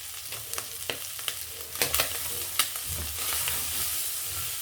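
Tripe (matumbo) seasoned with paprika is stirred in a frying pan, with irregular scraping strokes of the spoon over a steady sizzle and no voices.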